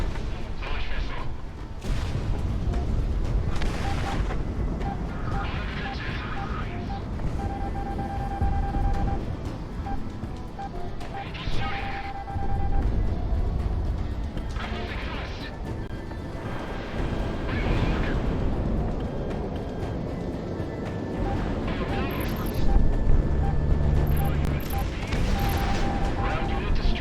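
Missile launches and explosions in the jet combat game Project Wingman come as repeated booms and rumbling blasts over a steady roar of engine noise, with radio-style voices talking throughout.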